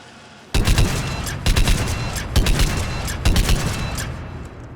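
Rifle fire from Mass Effect Legendary Edition, a heavy-recoil weapon, blasting out in loud rapid bursts, four clustered volleys over a sustained roar with no voices.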